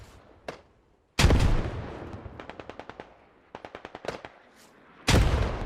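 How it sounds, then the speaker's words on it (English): Mortar and gunfire in the military video game Squad: heavy booming impacts interrupt rapid bursts of automatic fire, loud and close, alternating between single blasts and rhythmic volleys. "The friendly mortar fire that has been happening on this round has been outrageous."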